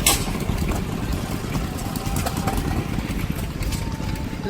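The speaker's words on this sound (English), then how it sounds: "Yeah, great little display. Gas engine." A small gas engine runs steadily at an outdoor steam show, a continuous low chugging drone with dense rapid pulses, close and fairly loud, amid general show background noise.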